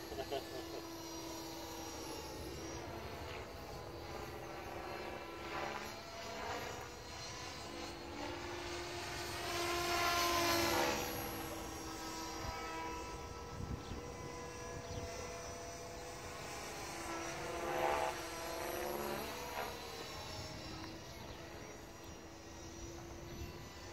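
Trex 500 RC helicopter flying inverted in gusty wind, a steady high rotor and motor whine holding throughout with swelling passes as it moves nearer, while people talk quietly over it.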